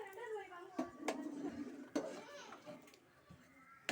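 A spoon stirs melting butter in a metal pot while homemade ghee cooks, giving soft scraping and a few sharp clinks against the pot under a quiet voice talking nearby.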